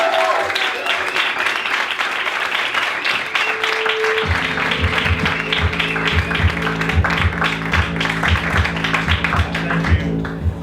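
A comedy club crowd applauds a headlining stand-up comic and the host, with steady dense clapping and cheering while a rhythmic low thumping beat of house music plays underneath from about the four-second mark.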